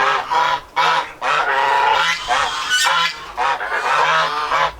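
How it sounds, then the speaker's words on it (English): A flock of geese flying overhead honks continuously, loud and close, in overlapping calls with no gaps and no talking. "course the geese are going to come over."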